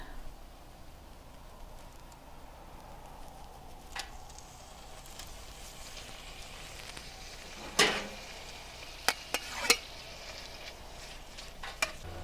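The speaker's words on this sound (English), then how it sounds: "I do have some sizzling going on now" Steak sizzles quietly in a hot skillet, a soft steady hiss broken by a few sharp scrapes and clatters of a utensil.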